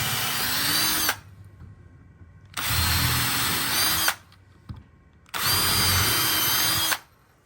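Power drill driving 3-inch deck screws through drywall into a stud for a garage car wash build, three loud whirring bursts of about a second and a half each, separated by short pauses.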